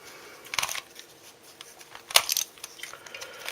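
Calvin's Curvy Dino Cube twisty puzzle being turned by hand, giving scattered light plastic clicks and ticks at irregular intervals, close and crisp with no talk.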